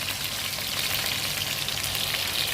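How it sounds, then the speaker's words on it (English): Oxtails frying in oil in a full pan over medium-high heat, giving a steady, dense crackling sizzle, close and continuous, with no voices. "my entire pan is full of meat, and soon will be ready to be flipped"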